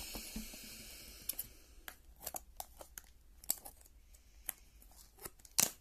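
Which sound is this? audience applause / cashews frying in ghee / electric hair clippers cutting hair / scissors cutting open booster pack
scissors cutting open booster pack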